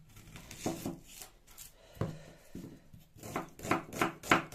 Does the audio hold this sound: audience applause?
no